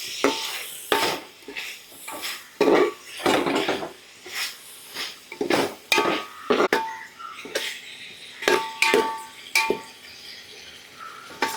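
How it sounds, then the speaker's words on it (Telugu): A spoon scrapes and clanks against a pot while Andhra-style country chicken pulao masala with chili powder is stirred, giving irregular metallic knocks and scrapes over a faint sizzle. "ఇప్పుడు ఒకసారి తిప్పుకుందాం"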